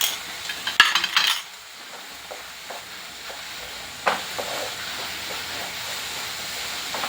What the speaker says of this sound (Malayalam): ഇളക്കി യോജിപ്പിച്ചിട്ട് നമുക്ക് പച്ചമുളക് കൂടെ ഇട്ട് കൊടുക്കാം